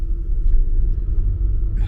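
A sluggish family car's engine rumbles low and steady as it slowly pulls away, a deep continuous drone close by with no voices.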